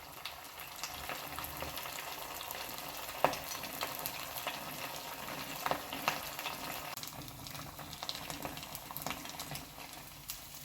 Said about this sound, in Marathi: आपल्याला 1 मिनिट तळू द्यायचे आणि त्यानंतरच आपल्याला ते उलटून घ्यायचे आहे